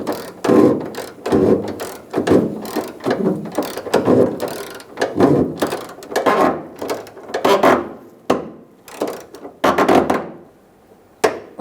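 A ratchet tightens the fuel tank strap bolts on a Toyota Camry, loud close clicking in quick repeated strokes, pausing between bursts before a final few clicks.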